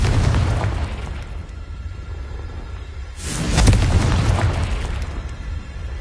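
A Confringo spell explodes in the video game Hogwarts Legacy, a loud booming blast with a rumbling tail and a second burst of fiery noise midway, filling the whole stretch without speech.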